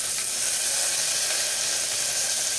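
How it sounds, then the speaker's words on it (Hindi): Mustard seeds and cumin splutter in hot oil in a pan while a Kashmiri-style Maggi is being cooked, giving a steady, close, dense sizzling hiss with faint tiny pops, and no voice over it. "राई जीरा हमारा तड़कने लगा है"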